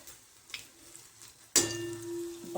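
Gram-flour bhaji batter drops into hot oil on a tawa and a fresh sizzle bursts up, settling into a steady, fairly quiet frying hiss after faint earlier crackles.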